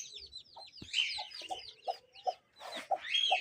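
Young chicks in a bird enclosure, fed boiled egg, chirp and peep in a busy run of short calls, some overlapping, close by and fairly loud with no talking.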